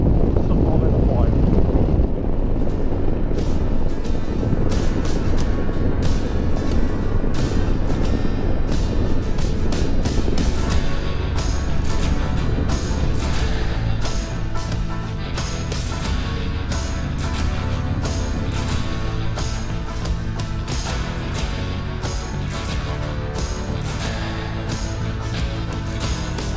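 A snowmobile riding a trail on a winter trip in Quebec gives a loud, steady engine drone with constant wind rush, running throughout without a break.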